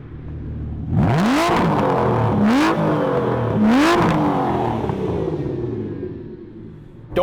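A 2019 Aston Martin Vantage engine revs hard three times in quick succession, each loud rising blip dropping back to a steady throaty idle, close and with no talking.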